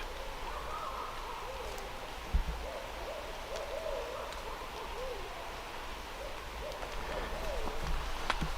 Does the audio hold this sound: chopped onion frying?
no